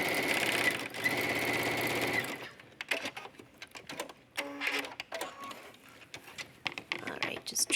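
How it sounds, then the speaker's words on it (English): A sewing machine runs a zigzag stitch over elastic for a waistband, its rapid needle chatter close and busy for about two seconds before stopping, then giving way to soft handling clicks and rustles under a voice. "I'm going to run this through the sewing machine using a zigzag stitch"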